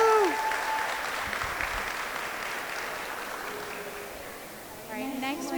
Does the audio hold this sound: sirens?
no